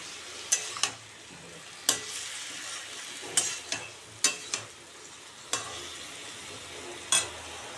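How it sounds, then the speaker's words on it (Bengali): Potatoes tossed into a pan of frying spices, for a Bengali egg curry with potatoes and cauliflower, are stirred with a utensil; a faint sizzle runs underneath while sharp scraping clacks land every second or so, with no talking. "এবার দিয়ে দেবো আলুগুলো।"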